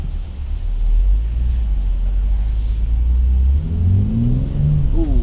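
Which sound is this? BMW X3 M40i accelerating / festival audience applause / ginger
BMW X3 M40i accelerating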